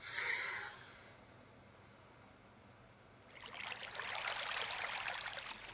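Water poured out in Minecraft, a broad rushing splash that swells in after a quiet stretch and keeps flowing steadily to the end, fairly close and moderately loud.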